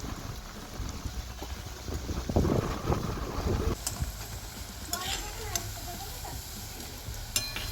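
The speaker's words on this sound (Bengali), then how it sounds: "জ্বলন্ত তেলে দেওয়া চলবে না, একটু কম হালকা আঁচে ভাজতে হবে।" Potato slices laid one by one into oil on low heat for a crispy potato fry snack, bubbling and sizzling with a swell of frying noise midway, then quieter crackle with light clinks of utensils.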